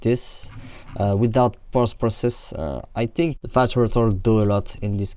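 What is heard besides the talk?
No distinct noise like a dog, phone or traffic.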